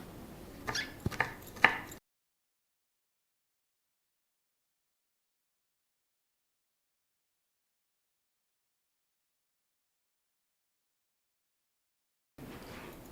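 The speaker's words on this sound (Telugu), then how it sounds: "మనం పచ్చిమిరపకాయని చిన్న చిన్న ముక్కలుగా కట్ చేసుకుందాం" A knife chops green chilies into small pieces for traditional Ugadi pachadi, giving a few quick, close taps over about two seconds before everything goes silent.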